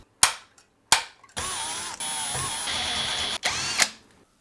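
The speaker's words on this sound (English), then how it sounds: "And I'm gonna drill the holes myself." Close-up power drill running in a long steady whine while drilling holes in a metal bracket for a sound card, bracketed by sharp clicks and short bursts of the motor starting and stopping.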